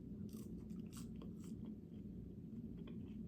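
Arby's curly fries are crunched during close, soft chewing, a scattering of crisp bites over a steady low background hum with no voice.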